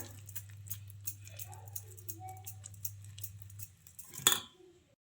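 A spoon clinks and scrapes against a bowl while stirring yogurt into a pizza batter. The light, irregular ticks and taps come from close by over a steady low hum, with a sharper clatter near the end.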